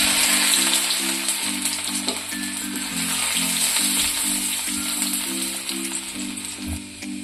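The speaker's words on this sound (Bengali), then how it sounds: "ওই তেলের মধ্যে দিয়ে দেব রসুন কুচি" Chopped garlic and ginger fry in hot oil for chilli chicken, a steady close sizzle and crackle running throughout, with a low rhythmic hum pulsing underneath.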